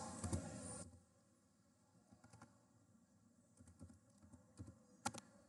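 Quick bursts of keystrokes on a keyboard, light clicky taps in short irregular runs, close and quiet, with no talking.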